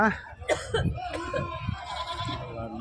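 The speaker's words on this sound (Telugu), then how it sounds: "సో ఈ గొర్రెలు పిల్లలు ఎట్టున్నాయనేది అడిగి తెలుసుకున్నాం" Sheep and lambs bleat in quick overlapping calls at a busy livestock market in Gudur, close by and mixed with people talking and some laughter.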